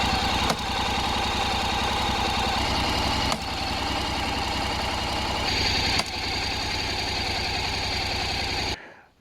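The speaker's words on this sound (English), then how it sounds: "when you engage in the first gear, the sound is basically the same as a normal bike" A Honda NC750X with a DCT gearbox idles with a steady, low engine rumble, and three sharp mechanical clunks mark the first gear engaging before the sound cuts off near the end.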